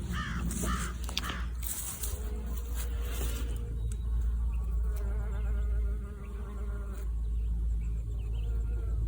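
Bees buzz around a garden plot, a steady insect drone that carries through the whole stretch alongside low outdoor ambience, with no voices.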